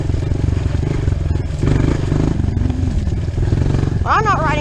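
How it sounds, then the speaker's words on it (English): A dirt bike engine runs loud and steady on a trail, its throttle shifting in pitch with a brief higher rev near the end. "people don't like dirt bike noise"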